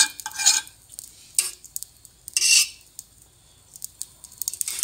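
Desi ghee is spread across a hot pan for French toast, heard as intermittent bursts of a utensil scraping and rubbing the metal surface over faint sizzling, with quiet gaps between strokes.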